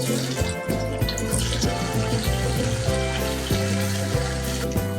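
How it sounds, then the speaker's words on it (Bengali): Paneer cubes fry in hot white oil with a steady, close hiss and sizzle that runs the whole time beneath a melodic music track. "তেলটা গরম হয়ে গেলে পনিরগুলোকে সব এক এক করে ভেজে নেব"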